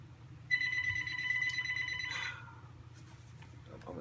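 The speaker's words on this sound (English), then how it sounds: "I'm going to answer this phone." A telephone rings with a bright electronic trill lasting about two seconds, fairly close, over a low steady room hum.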